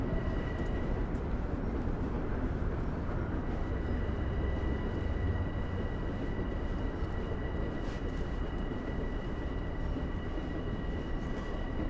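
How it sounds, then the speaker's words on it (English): A Long Island Rail Road train rumbles past close by with a dense, continuous roar of wheels and carriages, steady and loud throughout with no talk. "There's a Long Island Railroad train now."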